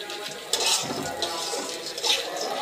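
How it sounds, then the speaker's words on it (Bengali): Water poured into a pan of frying lentils for a Bengali dal bhuna gives a steady, close hiss and sizzle with splashy swells, without talk. "না, পানি দিয়ে দিলাম।"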